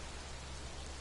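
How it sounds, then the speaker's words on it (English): Steady rain pours down in the video game Death Stranding, a dense, even hiss of drops on surfaces filling the whole moment with no voices over it. "we can wait here until the rain stops in real time"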